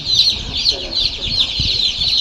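Colour breed chicks on a poultry farm chirp in a steady, continuous high chorus, with faint rustling and scuffling below.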